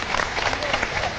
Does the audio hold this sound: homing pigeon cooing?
no